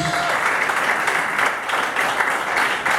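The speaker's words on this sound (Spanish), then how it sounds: "Yo le estaría dando más fuerte ese aplauso a Jesús." Church congregation applauding steadily through a Good Friday fasting service, a dense continuous wash of many hands clapping with a few brief swells.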